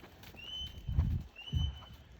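A horse's hooves land in two distinct thuds on an arena surface during a dressage warm-up trot, fairly close and moderately loud, with faint background noise.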